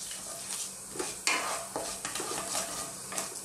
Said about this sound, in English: In goes our whole garam masala. We're just going to give them a little roast about.